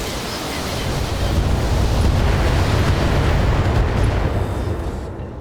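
Missile salvo bursting against a mech in the Battletech video game, a dense roaring wash of blasts that swells and holds for several seconds before fading.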